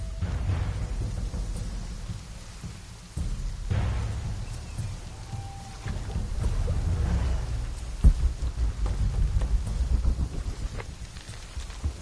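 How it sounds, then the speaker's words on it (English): Rain pours steadily in a PS4 video game while thunder rumbles low and sustained, with a sharper crack partway through and a constant hiss of rainfall throughout. "This would be easier if it wasn't raining."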